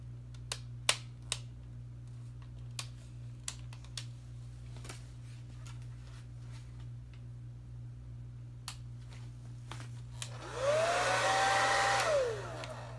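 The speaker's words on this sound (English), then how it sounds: "And then to mix these paints, I'm going to be using a hairdryer" A hairdryer switches on near the end to blow and mix acrylic pour paints with olive oil, a brief steady whooshing roar that rises and then cuts off, after scattered light ticks and clicks over a low hum.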